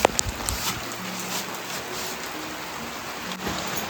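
Rain falls steadily on a farm field as a soft, even patter, with a few sharper drops near the start.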